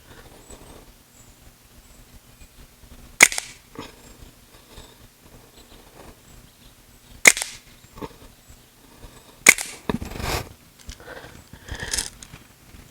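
Three sharp pops from a CO2 air gun powered by two cartridges, spaced several seconds apart, close and crisp against a quiet background with faint handling noise between shots.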